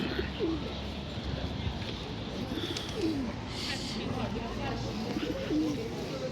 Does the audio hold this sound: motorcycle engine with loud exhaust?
no